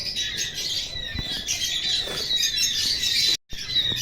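Small pet birds chirping and squawking in their new enclosure, a dense, continuous chorus of high calls nearby with a few sharper squawks, no talking.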